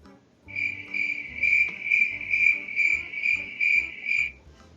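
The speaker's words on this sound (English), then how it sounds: "Chirped a big cricket, rubbing his wings together." A cricket chirps by rubbing its wings together, a steady high trill pulsing in repeated bursts of about half a second, loud and close, over a low rumbling background and with no voices.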